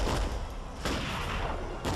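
Gunfire in the Men of War video game, a dense fusillade of overlapping shots with sharp bursts at the start, middle and end of the clip.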